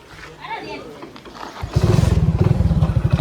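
A motorcycle engine starts up after some background voices, settling into a loud, rapid, throbbing idle close by.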